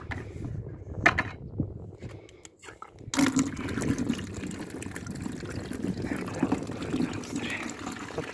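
Warm water running from an indoor tap for chickens, a steady splashing and filling close by, with some knocks at the start.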